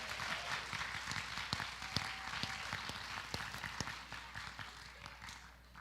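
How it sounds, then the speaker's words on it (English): Convocation audience applauds in a large hall, a dense wash of many hands clapping at moderate distance that gradually thins and fades toward the end. "Let's give them another round of applause."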